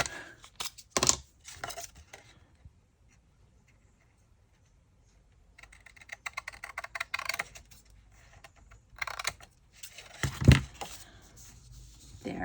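Paper being trimmed for an 8x8 trifold craft project, heard as a few sharp cutting and tearing snips and rustles in short bursts, with a quiet pause in the middle and a louder sharp cut near the end.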